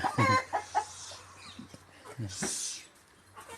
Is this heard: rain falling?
no